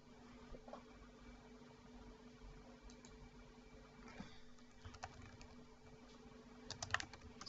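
Someone types on a computer keyboard in a quiet room, with soft, scattered keystrokes over low background hiss and a quicker, louder cluster of taps near the end.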